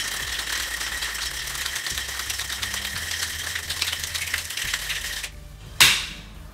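A cocktail shaker full of ice being shaken for a whisky sour, a fast, loud, continuous rattle of ice against metal lasting about five seconds, then a sharp clack as it stops.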